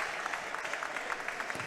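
A crowd applauds after a women's basketball game, a steady dense patter of clapping from an arena audience, moderately loud and continuous for the brief moment.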